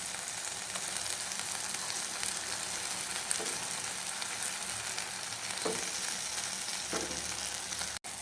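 Vegetables for a tandoori paneer pizza fry in a hot pan, giving a loud, continuous sizzle up close with occasional soft scrapes of stirring and no talking.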